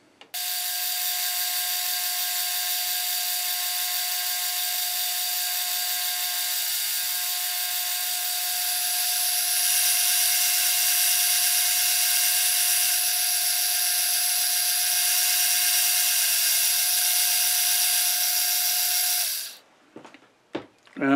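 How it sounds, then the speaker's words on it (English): A drill bit boring a slow pilot hole on a metal lathe, giving a steady, loud whine with a high squealing tone that holds for nearly twenty seconds before stopping abruptly, followed by a few faint clicks. "I'm going to run a pilot up. Don't want to take any great liberties with this material, so I'm going to take it slow."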